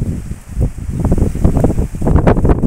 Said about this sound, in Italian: C'è vento forte oggi